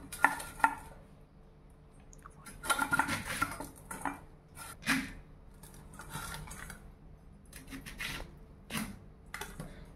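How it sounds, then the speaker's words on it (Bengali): A knife cuts fresh pointed gourd (kakrol) into pieces on a board, making a string of sharp, close chopping knocks at an uneven pace with brief pauses between cuts. No talking. "সবগুলো কাঁকরোল কেটে নিলাম।"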